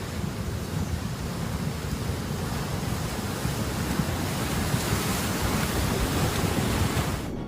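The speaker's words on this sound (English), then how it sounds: "this is a flood after a major thunderstorm, crushing everything that gets in its way." Flash flood water rushes after a major thunderstorm, a continuous loud roar of churning water that crushes everything in its path. It holds steady throughout with no voices.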